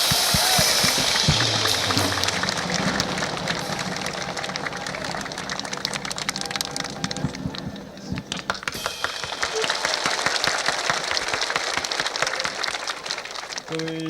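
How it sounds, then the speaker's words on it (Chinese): Warm, sustained applause from an audience of armed forces troops at an evening gala, welcoming a performer on stage; dense clapping fills the whole stretch, with some voices mixed in. "现在让我们以最热烈的掌声来欢迎最丑陋的林峰先生"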